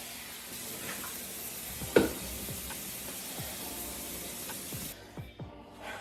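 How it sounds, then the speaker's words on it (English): Smoked turkey sausages frying in a pan give a steady broadband sizzle with scattered pops and crackles, one louder pop near the start, before the hiss thins to quieter spits at the end. "So I'm making these smoked turkey sausages right now"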